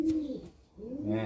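Young racing pigeons give a short, soft cooing call, close and fairly quiet, with a brief dip in the middle before the coo resumes.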